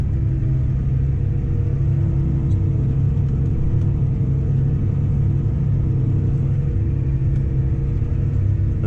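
Tractor pulling a plough through very loose soil on a field headland, a steady loud low engine rumble and drone running throughout without pause.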